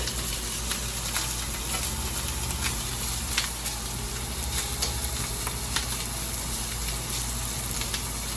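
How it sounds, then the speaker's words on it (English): An omelette with leftover Christmas ham fries in plenty of oil, a steady close sizzle with scattered pops and crackles throughout, no talking. "I'm making something like omelette."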